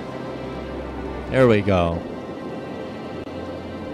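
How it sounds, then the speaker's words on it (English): Steady in-game rain from the city-building game Cities: Skylines hisses as a constant wash of noise, with someone briefly speaking over it. "And it is raining."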